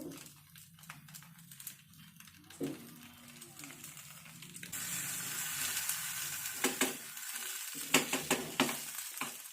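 Oil sizzling in an iron pan while fish cooks, starting soft and rising into a louder, steady frying hiss with sharp clinks and spatters in the second half.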